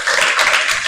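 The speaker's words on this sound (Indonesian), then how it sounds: "Baik, beri tepuk tangan untuk kelompok" A classroom of junior high students claps for a student group after its presentation, with dense, steady applause that fills the second evenly.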